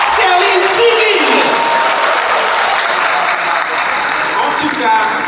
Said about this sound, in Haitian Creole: je vous demande d'applaudir chaudement Sterling Cyril